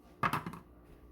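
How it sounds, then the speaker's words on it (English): A foil-covered chicken enchilada casserole dish slides into an oven, giving three quick close knocks and clatters of the dish against the rack, then quiet. "And I'm going to cover this with foil and put it in the oven"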